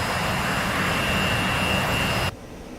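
A jet aircraft engine in the DCS World flight simulator roars with a steady, loud broadband whine and rumble, then cuts off abruptly near the end, leaving a quieter background hum.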